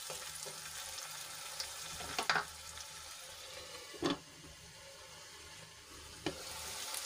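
An onion and tomato mixture cooks under a lid in a pan, giving a steady, soft sizzle with a few sharp clinks of utensils near the start and end.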